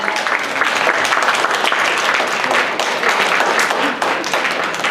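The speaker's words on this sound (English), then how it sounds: "Please give a round of applause." An audience claps and applauds steadily and loudly for a spelling bee champion, with sustained dense clapping filling the room.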